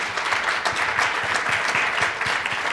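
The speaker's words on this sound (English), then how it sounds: "I just want to clap it up for the chairwoman." A room of attendees at a community board committee meeting claps for the chairwoman, a steady patter of many hands at moderate loudness lasting a few seconds.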